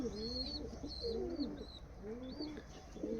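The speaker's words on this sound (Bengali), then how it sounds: "এই হচ্ছে কবুতর" Teddy pigeons cooing in soft, repeated rolling calls, close by, with no talking.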